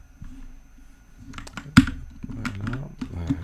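Typing on a computer keyboard with an unfamiliar layout, a run of soft clicks that builds into louder, denser keystrokes near the end, close and with no talk.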